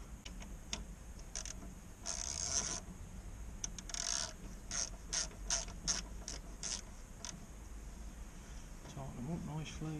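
Ratchet with a 12mm socket tightening front brake caliper bolts, giving bursts of quick close metallic clicking strokes with short pauses between them over a low background hum, and a voice speaks briefly near the end.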